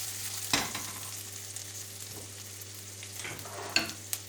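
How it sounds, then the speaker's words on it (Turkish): Soft, gentle sizzling of leeks frying lightly in olive oil in a pan, with occasional clinks and stirring scrapes; no voices. "Karamelize yapmıyoruz. Çok hafif kızartıyoruz."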